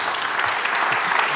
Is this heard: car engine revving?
no